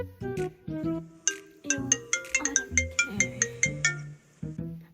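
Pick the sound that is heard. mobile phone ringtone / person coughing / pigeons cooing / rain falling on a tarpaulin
mobile phone ringtone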